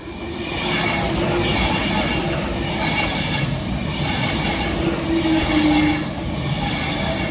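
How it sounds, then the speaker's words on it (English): An Avanti Pendolino electric train passes close by a bridge, a loud steady rumble and rush of wheels and overhead power running throughout with no talking. "That's going to London. It's a Pendolino."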